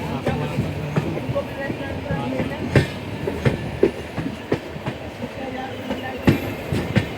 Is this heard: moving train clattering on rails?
yes